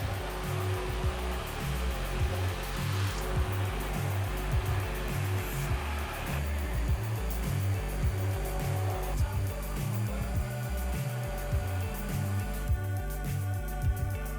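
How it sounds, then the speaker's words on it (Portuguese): A stick mixer blends hot chocolate with orange in a steady, loud motor whir. It holds continuously throughout, with a slight pulsing churn and no voices. "Vamos ligar o mixer e bater."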